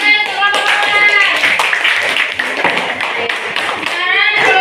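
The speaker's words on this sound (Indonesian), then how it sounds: "Tepuk tangan untuk kelompok Mawar." Brisk clapping in a classroom for a group that has just presented its work, close and lively, mixed with excited voices talking and calling out over the hands.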